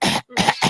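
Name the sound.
person coughing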